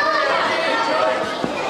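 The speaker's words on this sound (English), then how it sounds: "Packed crowd here at the Snodland Centre," A packed crowd at the Snodland Centre wrestling venue chatters in a steady, close wash of overlapping voices with no single voice standing out.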